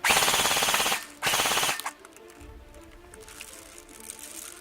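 A Krytac Trident LMG Enhanced airsoft machine gun fires two rapid full-auto bursts, each about a second long with a short gap between, followed by quieter mechanical clicks and handling noise.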